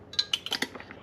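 Metal lid clinking onto a glass jar of homemade onion thyme marmalade, a quick series of sharp, bright taps and clicks, close and clear with no talking.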